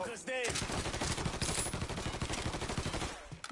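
Rapid bursts of automatic gunfire crackle through a crossfire in the Mafia 3 video game, dense and continuous for a few seconds at close range.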